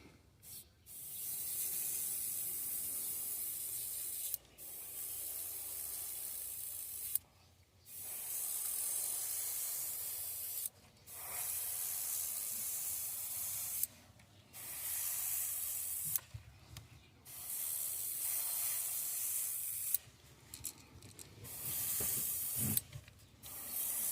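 Spray paint hisses through a mesh stencil in a series of about eight short bursts, each a few seconds long with brief silent gaps between, close and steady.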